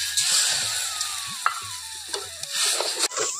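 Cumin, coriander and chilli powders frying in a pan for a bhindi dal, a close continuous sizzle with stirring scrapes and a few sharper clinks of a spoon; no one speaks.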